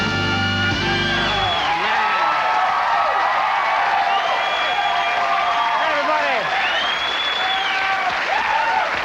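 A late-night talk show studio audience claps and cheers loudly and steadily, with whoops and shouts rising over dense, sustained applause that fills the whole stretch.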